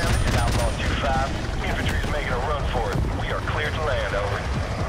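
Dense, rumbling bursts of AC-130 gunship fire from Call of Duty 4: Modern Warfare Remastered pound continuously over wind noise, with voices talking over it.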